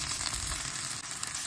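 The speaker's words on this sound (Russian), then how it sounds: "Затем обжарим цукини" Sliced zucchini frying in sunflower oil in a pan, giving a steady, dense crackling sizzle that carries on without pause, close up and with no talking.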